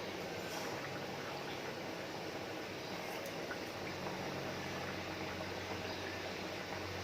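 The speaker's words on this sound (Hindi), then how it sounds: "हम इसको तलेंगे मीडियम आंच पर" Litti dough balls fry in hot oil over medium heat, giving a steady, even sizzle and bubbling that carries on unbroken throughout at a modest level.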